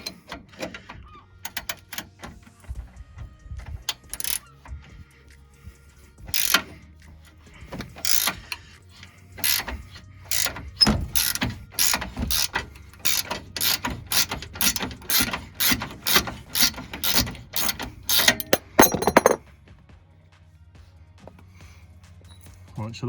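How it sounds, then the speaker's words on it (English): A ratchet with a 19mm socket undoes a bolt on a Nissan 350z control arm, giving rapid bursts of close, sharp clicking in a steady back-and-forth rhythm before stopping. "take a 19mm spanner and ratchet this one out"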